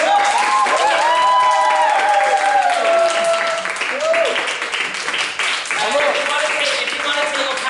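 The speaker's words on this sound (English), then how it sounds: "So can we give them one more round of applause?" An audience gives a musical theatre cast a steady round of applause, dense clapping mixed with cheers, while a voice speaks and sings over the crowd.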